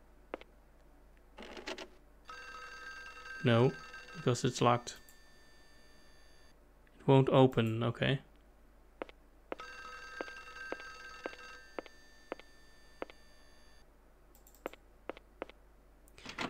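An old-style telephone bell in the game Clock Tower rings in long repeating bursts. Clicks and a few louder thuds come between the rings, and a person talks in short pauses.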